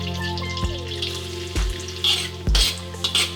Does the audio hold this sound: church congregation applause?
no